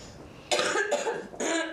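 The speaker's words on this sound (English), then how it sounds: "little cough still from that horrible cold that I had" A person coughs twice in quick succession, close and loud, a lingering cold behind it, the bursts harsh and breathy with a short gap between them.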